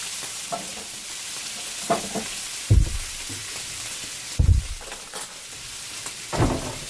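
Four strips of bacon frying in a pan, a steady soft sizzle with a few louder low thumps and scrapes as the strips are moved, no one speaking.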